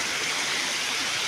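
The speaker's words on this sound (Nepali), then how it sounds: "यसरी कुलोबाट पानी तल झर्छ" Water rushes down the narrow feed channel of a traditional Nepali water mill (ghatta) in a dense, steady hiss, close and fairly loud, with no other sounds.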